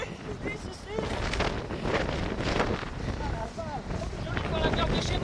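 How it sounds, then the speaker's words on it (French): Strong wind buffets the microphone on a coastal road, a steady roaring rush with gusting swells, while people talk faintly beneath it. "il y a un peu de vent, hein. Ça souffle, ça souffle."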